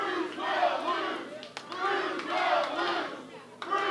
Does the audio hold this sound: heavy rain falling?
no